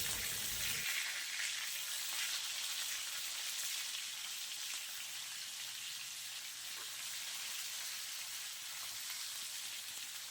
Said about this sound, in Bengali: মাছগুলো উল্টে পাল্টে খুব ভালোভাবে ভেজে নিয়েছি